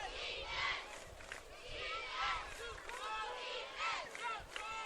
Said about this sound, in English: Crowd chanting for its defense here.